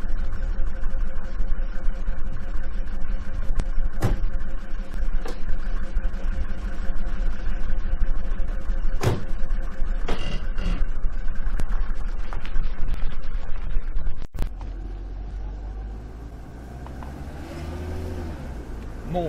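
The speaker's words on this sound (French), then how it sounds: "le moteur fait un drôle de bruit" A car engine runs steadily at a low, even hum in a French film scene set in a moving car, with a few brief clicks and knocks over it and a quieter, softer stretch toward the end.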